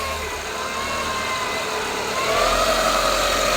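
Car engine running with a failing AC compressor, a steady close mechanical drone with a rougher, louder growl building in the last second or so; no talking.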